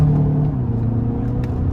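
A 2022 Kia Sorento SX Prestige with a 2.5-liter turbocharged four-cylinder accelerates out of a corner in sport mode, heard from inside the cabin as a brief loud engine hum and rumble, its pitch shifting slightly.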